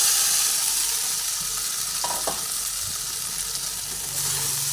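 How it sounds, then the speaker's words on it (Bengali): Fried okra with turmeric stirred back into a hot pan, giving a steady close sizzle with scraping stir strokes and no talk. "ভেজে নেওয়ার পরে ওই ঢেঁড়সগুলো যে ভেজে তুলে রেখেছিলাম সেগুলো আবার এর মধ্যে দিয়ে দিলাম"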